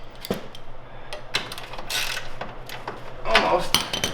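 Ratchet clicking in short irregular bursts while bolts go back onto a Can-Am Maverick X3 side-by-side, close by, with some faint background talk.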